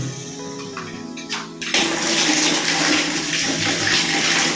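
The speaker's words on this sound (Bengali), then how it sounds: "একবার আমরা বাথরুমের জলের ফোর্স একটু দেখে নিই" Water gushes from a tap in a hotel bathroom, starting with faint trickles and handling noises, then surging into a loud, steady rush that continues to the end.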